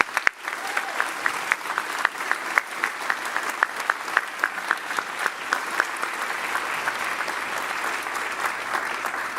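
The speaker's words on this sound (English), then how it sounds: "A round of applause for these Logansport Berries." Sustained applause from an audience at a high school senior awards night, with steady dense clapping and scattered louder individual claps throughout, continuing without talk.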